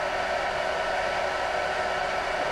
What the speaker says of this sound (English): I'm going to put a hair dryer